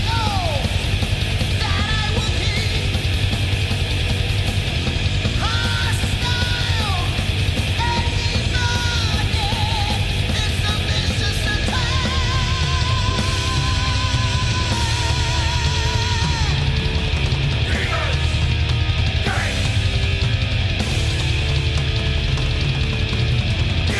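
A speed metal song from a Canadian power trio, with fast distorted riffing, pounding drums and screamed vocals in a rough, dense production, loud and continuous throughout.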